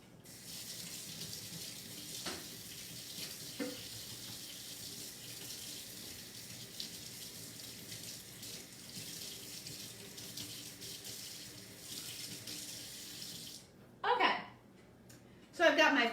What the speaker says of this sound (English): Mine is covered in dough, but I'm just gonna give it a quick rinse.